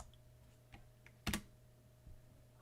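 Quiet keystrokes on a computer keyboard, a few scattered light taps and one louder clack, with no one talking.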